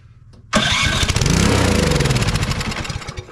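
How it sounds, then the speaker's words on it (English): A Troy-Bilt Storm 2420 snowblower engine fed carb cleaner fires up abruptly and runs loudly up close, its rapid chugging pulses steady for a few seconds before easing slightly. "Now it runs just as long as we have carb cleaner or starting fluid for a fuel"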